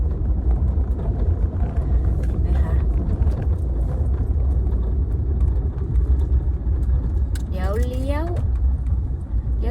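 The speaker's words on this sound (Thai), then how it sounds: "เดี๋ยวเราจะขับรถอ้อม แปลงที่ 1 ถึง 18 ให้ได้ชมกันสักหนึ่งรอบนะคะ" A car drives slowly around numbered land plots, its steady low engine and road rumble continuous and close throughout, with a brief rising whine or squeal near the end.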